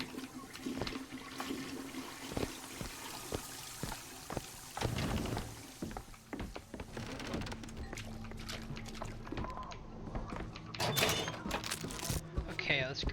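A toilet flushes in Bioshock Infinite with a loud rushing, gurgling swirl of water, set among scattered clicks and clatters, with people talking over it throughout.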